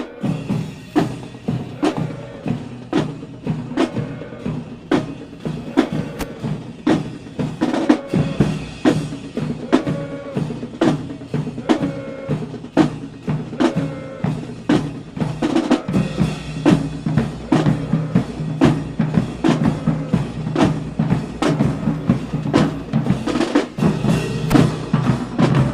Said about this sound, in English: Jacksonville High School Band is coming through with their dancers